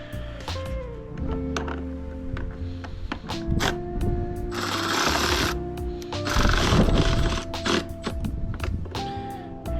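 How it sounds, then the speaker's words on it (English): A power ratchet slowly drives 7mm bolts holding a headlight in the plastic housing of a Dodge Challenger, with close whirring bursts and clicks broken by pauses and scattered handling knocks. "you're using a power ratchet like mine, you want to make sure to go real slow, because this is plastic."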